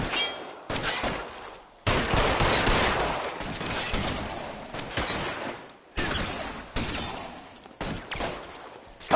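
Loud gunfire rattles through a shootout in L.A. Noire, with sustained volleys of rapid shots broken by brief gaps, close and dense.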